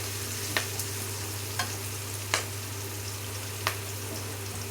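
Tomato thokku sautés in a pan, holding a steady low frying sizzle close by while a spoon scrapes and stirs it in a few sharp strokes.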